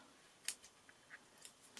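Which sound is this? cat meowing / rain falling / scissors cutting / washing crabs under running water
scissors cutting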